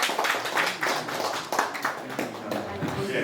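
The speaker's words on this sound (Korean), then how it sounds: "다시 한번 박수 부탁드리겠습니다" Scattered, uneven clapping from a small audience at a book launch for an essay collection, with distinct individual claps and taps, moderately quiet, and some voices mixed in.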